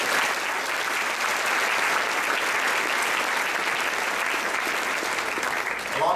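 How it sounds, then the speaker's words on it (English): A crowd at a college student award ceremony applauds for Mike, a thick continuous wash of clapping that stays even and full throughout before easing at the very end. "We can applaud for Mike."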